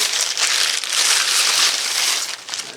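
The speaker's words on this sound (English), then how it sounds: "Let's unbag it." A .22 rifle being pulled out of a big plastic bag, with loud continuous crinkling and rustling of plastic close up, unbroken for nearly the whole stretch.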